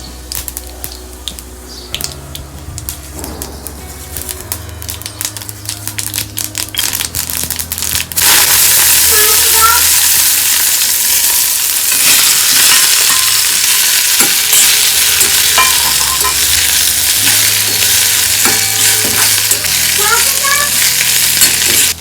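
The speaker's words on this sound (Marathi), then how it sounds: "आता यामध्ये आपण फोडणीमध्ये जिरे तीळ आणि थोडीशी कोथिंबीर घालणार आहोत" Quiet clinks and a low hum, then a sudden loud, continuous sizzle as cumin, sesame seeds and a little coriander hit hot oil for tempering, crackling steadily to the end.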